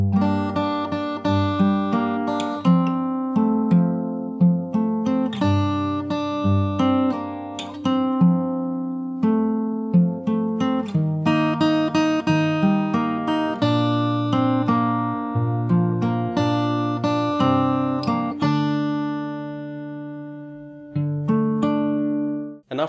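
Fingerstyle acoustic guitar plays a song from the start, a bass line under picked melody notes and chords, clear and close, alone for the whole passage.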